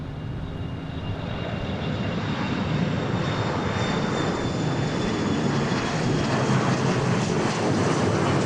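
Aircraft engines roar steadily and loudly from a runway at Dallas Love Field airport, a broad continuous rumble with a faint whine that holds for the full eight seconds.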